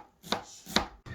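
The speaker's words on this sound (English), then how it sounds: "now it's not going to run away on you when you're chopping" A knife chops through soup ingredients on a cutting board in two sharp, distinct strikes about half a second apart, close and crisp, with no voices.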